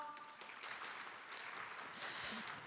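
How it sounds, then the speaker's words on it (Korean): Faint, steady applause from an audience at the 2021 Korea Innovation Fair opening ceremony, a soft continuous patter of many hands with no voices on top. "여러분 큰 박수 보내주십시오"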